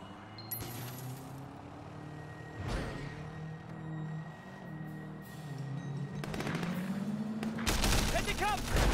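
Gunfire rings out in the Sleeping Dogs video game during a triad chase by ferry. Scattered shots crack over a steady vehicle engine drone, then a louder burst builds near the end.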